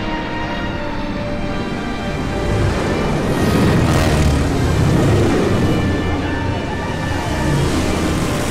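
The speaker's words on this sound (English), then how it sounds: "the fighter planes were actually P-40s instead of later models" P-40 fighter planes fly through a World War II video game cutscene, giving a steady, loud, broadband engine roar that swells slightly midway and holds throughout without speech.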